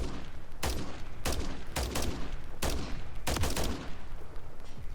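Gunfire in Modern Warfare III rings out in five sharp, loud bursts, some single cracks and some quick doubles, spaced about a second apart over a steady background hum.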